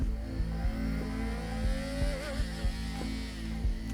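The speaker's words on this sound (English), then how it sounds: "if I go down to first gear, watch what happens when you hit the rev limiter" A CFMoto 675SR-R triple motorcycle revving hard in first gear, its engine droning loud and close with a rhythmic stutter of regular cuts as it bangs against the rev limiter.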